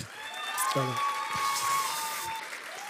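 A church congregation applauds the worship team, with soft, scattered clapping under music that keeps going, a short vocal phrase rising briefly over it, all fairly faint.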